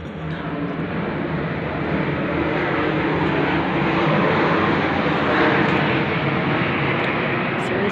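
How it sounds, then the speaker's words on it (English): A military plane passing low over a house roof at night gives a loud, continuous broadband engine roar that swells slightly midway and stays steady throughout. "this military plane going over as I speak"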